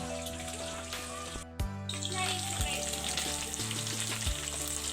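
Fish fries in a pan with a steady, close sizzle, and occasional clinks and clatters of cookware break in over a low background hum.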